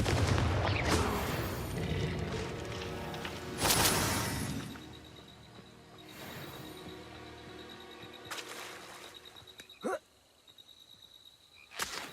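Confringo blasting spells exploding in Hogwarts Legacy: several sharp booming bursts with crackling tails, a heavy one at the start and near four seconds, then smaller snapping blasts spaced apart.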